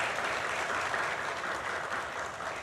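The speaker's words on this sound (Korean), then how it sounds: "우리 박수로 환영하고 축복합니다." Steady applause from a church congregation during a Sunday worship service, welcoming newly registered members; continuous clapping fills the whole stretch at an even level, with no voices standing out.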